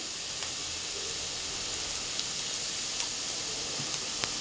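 Sliced onions sauté in a pan for a roasted-coconut egg curry, giving a soft, even sizzle and hiss with a few faint ticks, steady and fairly quiet throughout.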